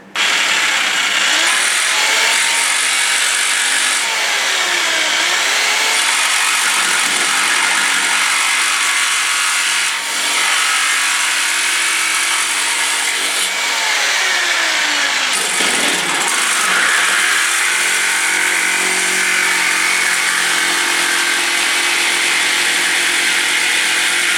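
A power tool with a disc cuts a metal bash plate for a Triumph motorcycle, a loud continuous whining grind lasting over twenty seconds, its pitch dipping and rising as the disc bites into the metal, with no speech.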